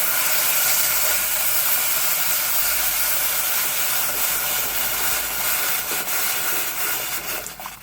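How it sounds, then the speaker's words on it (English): Hot pot hissing as four cups of hot water are poured in, a loud steady broadband hiss and sizzle lasting several seconds before easing slightly at the end, with no voices. "that's the sound that the pot makes when it's hot"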